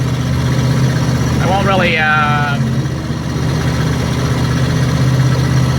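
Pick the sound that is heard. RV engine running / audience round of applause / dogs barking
RV engine running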